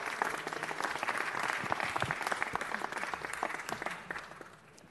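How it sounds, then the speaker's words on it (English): Applause from a community gathering at a city council meeting greets Bob Gotham, steady dense clapping that holds for several seconds and thins slightly toward the end. "Let's give him a big round of applause."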